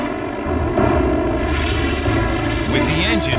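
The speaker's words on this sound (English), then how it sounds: "Dave throws the water bomber into a steep approach" A water bomber aircraft with its engine bleeding oil drones loudly and steadily on a steep landing approach, its engine roar filling the cabin close by, with faint voices underneath.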